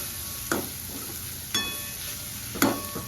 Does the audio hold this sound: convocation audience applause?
no